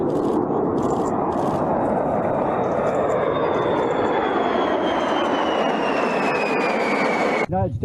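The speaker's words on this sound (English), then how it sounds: "The U.S. says it has flown a B-52 over South Korea in a show of force" A B-52 bomber flies over South Korea with a loud, sustained roar of jet engines and a slowly falling whine as it passes, broad and continuous before cutting off abruptly.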